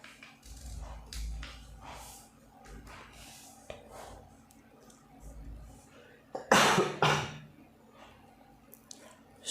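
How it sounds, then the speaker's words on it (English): A single loud, close cough bursts out partway through, standing clear above a quiet room during a paper origami folding tutorial. "Sorry for the cough."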